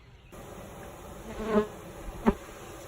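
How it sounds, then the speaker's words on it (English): Soft, steady honeybee buzzing hums in the background around a newly installed hive, with a couple of brief louder bursts as bees fly close past. "I shook them down in the hive. They're flying around a little bit."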